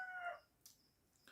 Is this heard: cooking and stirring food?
no